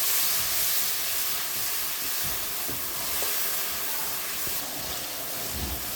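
Ginger and garlic paste going into a pan with spices for a tilapia dish, giving a continuous loud hiss of frying with faint scrapes and clinks underneath, close and unbroken for several seconds, no talking.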